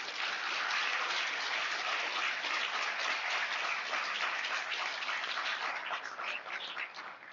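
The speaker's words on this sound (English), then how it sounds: "Let's give all the teams another round of applause." A student design challenge audience gives a sustained round of applause for the presenting teams, dense steady clapping at full level that thins slightly near the end.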